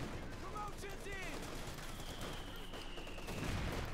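Light machine gun fire in a World War II strategy video game, rattling bursts mixed into a dense battle din with whistling tones, steady loudness throughout.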